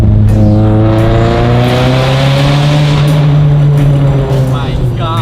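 A Mazda NC Miata with a straight-piped exhaust and a RoadsterSport single muffler drones loudly and boomily at steady revs, with a deep, unbroken exhaust tone rising slightly, close and without talk.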